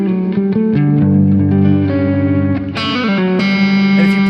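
Electric guitar notes with a dotted-eighth delay repeating each phrase, soft echoes trailing behind the playing and blending into a wash of sound.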